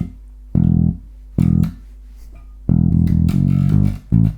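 Classic disco bass riff played on bass guitar in short, loud, punchy phrases separated by brief gaps, with the last stretch running into a longer busy run of notes, unaccompanied.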